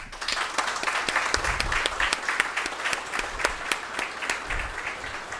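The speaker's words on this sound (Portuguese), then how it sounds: "Eu queria pedir uma salva de palmas para todos os artistas presentes aqui hoje" A crowd at a formal ceremonial session applauds steadily, many hands clapping at once in a dense, continuous patter that stays even throughout.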